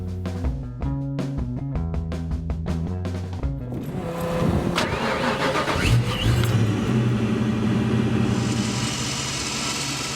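A Fox Body Mustang engine cranks and catches, then settles into a steady, loud idle with a rumbling low drone; a rapid clicking rhythm comes before it fires up.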